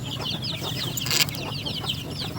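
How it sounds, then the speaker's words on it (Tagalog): Native chickens, including half-grown chicks let out of their coop, cluck and chirp steadily at close range, with a busy overlapping chatter of calls throughout and no talking. "Native chicken."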